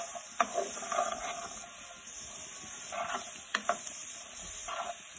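Beetroot frying over high heat in a Sri Lankan dish while being stirred, giving a low steady sizzle broken by several sharp scraping clacks of a utensil against the pan, close and with no talk.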